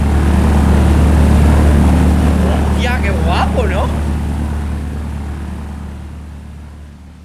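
Helicopter in the video game Ready or Not, a loud steady rotor and engine drone that fades slowly as it passes overhead, with someone talking briefly over it.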